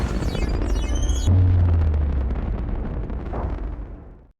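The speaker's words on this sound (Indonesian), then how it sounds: "Optimus meledakkan sisa-sisa Transformium Decepticon yang tersisa menggunakan granat khusus" Large explosion from a special grenade in the Transformers: Age of Extinction film, a loud booming blast that rolls on with rumbling debris and fades out over several seconds.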